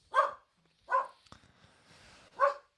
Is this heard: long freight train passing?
no